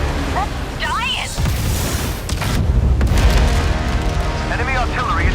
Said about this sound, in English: Enemy artillery intensifying.